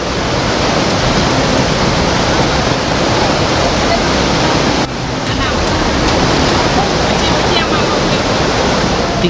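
Floodwater from the overflowing Batang Kiranji river in Padang, West Sumatra, rushes in a loud, continuous roar that fills the whole stretch, with a brief dip midway and no voices.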